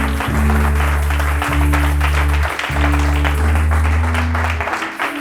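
Church congregation applauding and cheering at a sermon on fasting, a dense sustained roar of clapping under a steady low musical drone, loud and continuous throughout.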